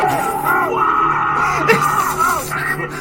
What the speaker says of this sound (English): Why is he screaming like Nicolas Cage?